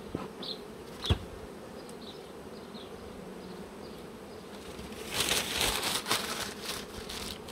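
Honeybees hum steadily inside an opened beehive, close and continuous, with a few rustling, crinkling handling noises of paper and frames rising toward the end.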